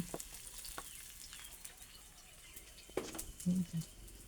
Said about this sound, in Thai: เอาหอมแดงไปเจียวก่อนนะคะ